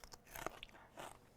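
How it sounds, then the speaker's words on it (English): A crisp bite into a homemade fermented pickle gives a few sharp, close crunches, followed by faint chewing and rustling noises. "Crunch."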